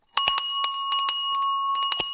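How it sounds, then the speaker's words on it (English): A bell is struck repeatedly to mark the opening of the US stock market, sounding as a quick burst of bright clear rings that blend into a sustained shimmering tone. "I've got the bell right here"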